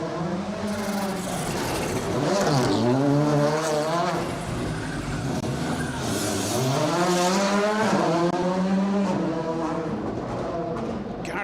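A rally car, number 6, speeds past on an asphalt stage, its engine note rising and falling through gear changes and revs over several seconds, loud and close, then fading slightly as it moves away.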